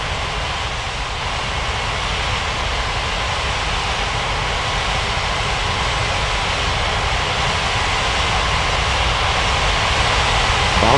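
Jet airliner engines roar steadily in the Unmatched Air Traffic Control game at Ngurah Rai Bali International, a loud sustained broadband rumble and whine that builds slightly toward takeoff, with no talking.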